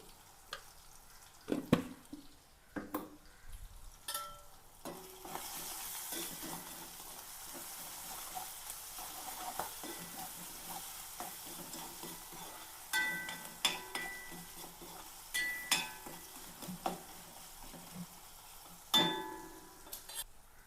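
Curry leaves sizzle in hot oil, a faint, steady frying hiss broken by scattered pops, spatters and stirring clinks of a pan over about twenty seconds.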